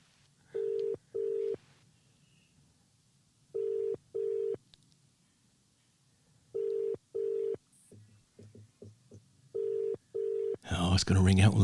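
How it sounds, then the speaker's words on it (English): Telephone ringing out on a live phone call during a raffle draw, repeated double-burst ring tones in an even rhythm with pauses between them, fairly clear, with brief noise and voices at the end. "It's definitely ringing."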